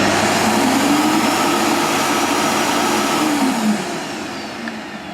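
A Hoover Freemotion Cyclean cyclone vacuum cleaner running indoors, a loud, steady close-up whine and airy roar that holds for several seconds, then eases slightly toward the end.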